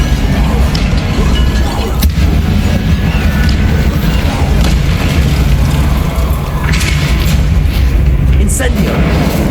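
Incendio fire spell blasts in Hogwarts Legacy, loud booming bursts of magic combat over a dense, rumbling game soundscape, with a few sharper impacts spaced across the stretch.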